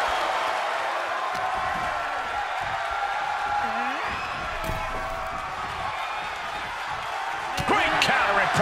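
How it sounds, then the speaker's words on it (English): Crowd noise fills an arena during a women's United States championship wrestling match in the video game WWE 2K24, a steady roar with occasional sharp impacts and a louder swell near the end. "What a raucous crowd here tonight."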